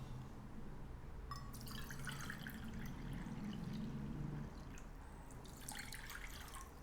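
Water being poured into a bowl for making sugar syrup for homemade rasagulla, a steady trickling and splashing that runs through the clip with faint kitchen clatter above it and no talking.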